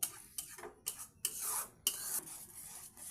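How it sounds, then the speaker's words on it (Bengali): Slow stirring of palak paneer in a pan, with a spoon scraping and rubbing the pan in repeated soft strokes, close and fairly quiet, no talking. "এইভাবে খালি আস্তে আস্তে নাড়তে হবে, যাতে তলাটা না ধরে যায়।"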